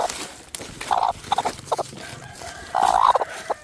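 A hen on an egg-harvesting farm clucks in short, close bursts, with several loud clucks and pauses between them and no talk.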